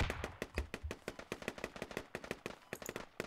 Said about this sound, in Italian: Ok, spari dappertutto.